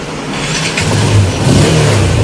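A motorcycle engine with new gaskets, a 60 mm cylinder and an S&A cam revs up strongly, rising in pitch and loudness over a couple of seconds, close and continuous, with no talking.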